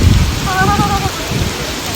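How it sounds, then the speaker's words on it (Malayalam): Heavy rain pours down in a dense, steady hiss with a low rumble beneath, and a brief thin whine rises partway through. "നല്ല മഴയാ ഗൈസ്."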